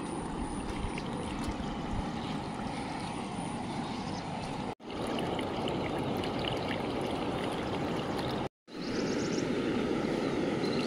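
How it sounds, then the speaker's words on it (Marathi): A swollen stream flowing in a rainy Konkan farming landscape: a constant, dense rushing of water, close and steady, broken twice by brief dropouts, with no talk. "ओढ्याला खूप पाणी आलं आता."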